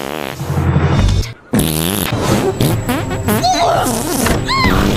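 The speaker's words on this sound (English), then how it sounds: "maybe Owen with a lot of fart attacks" A cartoon fart sound effect for the character Owen from Total Drama plays loud and buzzy, with wobbling, sputtering tones running nearly continuously after a brief drop near the start.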